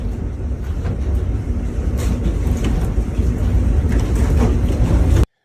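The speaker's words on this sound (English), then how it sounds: "Bro, there's a tornado outside right now." A tornado roars outside like a freight train, a loud continuous rumbling wind noise with gusty swells that runs unbroken until it cuts off suddenly.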